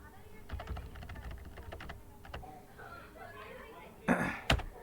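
Someone typing on a computer keyboard while working in a terminal, clusters of close, crisp key clicks in uneven bursts, ending with a couple of louder sharp keystrokes.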